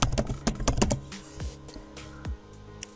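Someone types team names on a computer keyboard. A quick run of close, crisp key clicks comes first, then a few slower, sparser taps.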